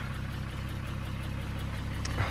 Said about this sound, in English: The engine seems to run just fine. Sounds nice.